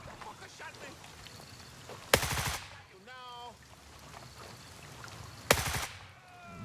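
Two sharp, loud gunshots in Gray Zone Warfare, a few seconds apart, each with a short ringing tail, while someone talks quietly over a soft ambient background.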